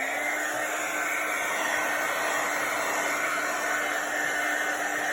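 A hair dryer blows steadily across a junk journal page, a constant close whirring hiss with a fixed motor hum that holds evenly for the whole stretch with no voices.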